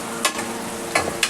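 Cut potatoes dropped into a hot pan for Guntur-style kichidi, a steady close sizzle of frying with a few louder stirring scrapes and splashes, no speech.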